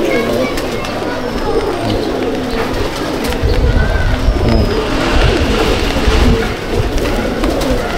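Male Madrasi (Chennai) pigeons cooing in a loft in Andul, Howrah, with a dense, continuous low murmur of overlapping coos that grows louder midway.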